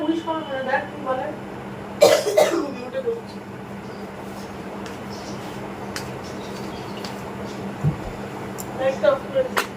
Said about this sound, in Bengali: কাশিটা কমবে বুঝি